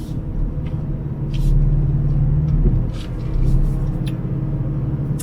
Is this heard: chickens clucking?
no